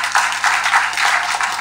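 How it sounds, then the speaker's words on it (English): Brief clapping from a small audience, a steady patter of hands that is close and moderately loud, with no talk over it. "Give her a clap."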